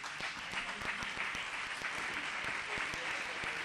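Faint, steady applause from a small audience at a flamenco and rice-dish project presentation, crisp individual claps blending into a continuous patter.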